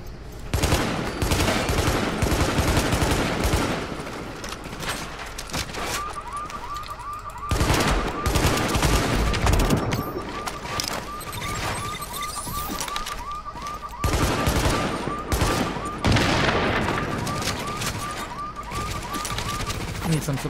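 FAL rifle gunfire in the shooter game The Division comes as rapid clustered bursts of shots over dense game noise, with a repeating alarm-like tone running through the middle. Players talk over the action.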